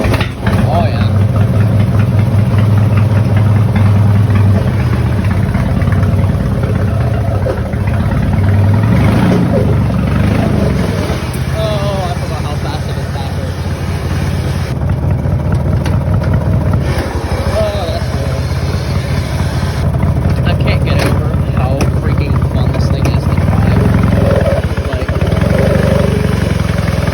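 A small LT1000 lawn tractor converted into a racing mower/cruiser idles and runs steadily up close, its low engine drone continuous throughout with some brief talk over it.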